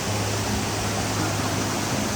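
A waterfall in the Sinharaja rainforest gives a constant, dense rushing roar that stays even throughout, with no voices over it.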